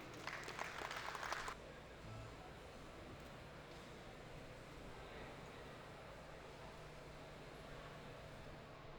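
Applause from the audience at a Caribbean food and beverage event rises to welcome a speaker in a short, fairly loud burst, then stops abruptly, leaving only low room hum.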